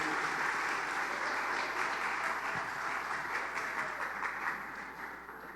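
A church congregation applauds, praising Jesus, in a steady, sustained wash of clapping heard at moderate distance without speech.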